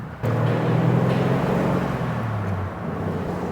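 A 1948 Lincoln Continental driving and downshifting into first gear, the engine note dropping in pitch as the car slows, with a steady low drone and faint road noise.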